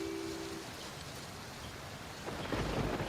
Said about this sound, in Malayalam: പുറത്ത് നല്ല ഇടിയും മഴയൊക്കെയാ